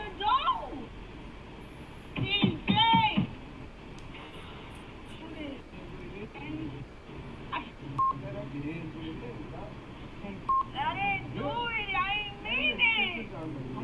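Telephone keypad tones sound in short clustered bursts, mixed into a busy, dense background of voices and other sounds, with people talking throughout.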